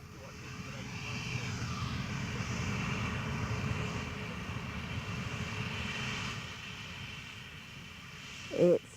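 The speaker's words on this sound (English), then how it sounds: "We'll be starting our descent in approximately 5 minutes' time and should be landing around about 20 to the next hour." An airliner cabin on descent toward the Falklands, filled with a steady broad engine drone and airflow hiss that holds evenly throughout, ending with a brief louder bump near the close.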